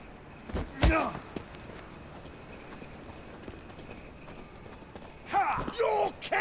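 In The Witcher 3, horse hooves clip-clop in a couple of short bursts over low game ambience, with voices talking at times.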